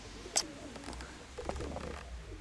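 Pigeons in a village coo softly at a distance, with a brief sharp sound near the start and a few low calls over quiet outdoor background noise.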